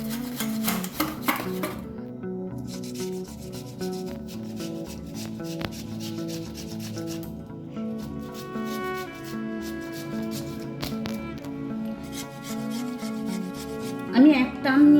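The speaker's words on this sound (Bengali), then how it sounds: "আমটা প্রথমে আমি গেট করে নেব।" Raw green mango grated on a hand grater in a kitchen, a steady close rasping rub repeated in quick strokes throughout, with a few clinks near the end.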